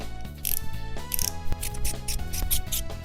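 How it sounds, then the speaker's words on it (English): A ratchet tightening bolts on a Subaru WRX FA20DIT engine being rebuilt, with close, rapid clicking pawl strokes and short metallic bursts repeating in quick succession. "Tighten the bolts again."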